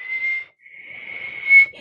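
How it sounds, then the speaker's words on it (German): A person whistles a sustained clear tone, breaking briefly after about half a second, then resuming with a louder rise near the end; close and alone, no talk. "ich soll pfeifen"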